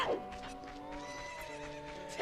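Horses in The Legend of Zelda: Ocarina of Time whinny in a couple of close, ringing neighs with faint hoof clip-clop, while people talk over the game sounds.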